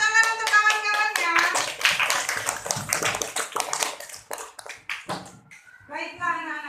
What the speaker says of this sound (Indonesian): tepuk tangan untuk kawan-kawannya